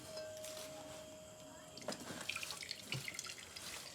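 Water drains off soaked urad dal in a kitchen, a faint steady trickle and splashing with a few soft clinks of a vessel, quiet throughout.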